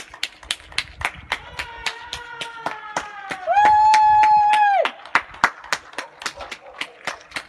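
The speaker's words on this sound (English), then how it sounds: "The neighbourhood is out clapping and screaming for the NHS." Neighbourhood street in Clacton-on-Sea clapping for NHS carers, steady rhythmic handclaps from several people with a long whistle or horn tone sounding midway through, and a brief voice underneath.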